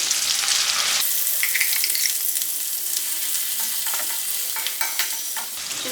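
Cucumber and groundnut chutney is stirred into hot tempering in a pan, giving a loud, steady sizzle and frying hiss throughout, with scraping stir strokes layered on top.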